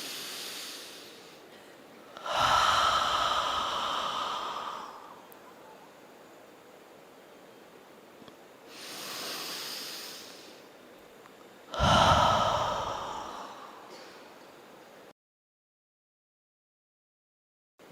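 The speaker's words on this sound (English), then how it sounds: "when you breathe out fully, stop there for a few seconds, even few seconds, consciously stop and then breathe in." Slow, deep breathing exercise: a long airy exhale, a quiet pause, then a fuller inhale and another strong breath, close to the microphone with soft background hiss before ending in silence.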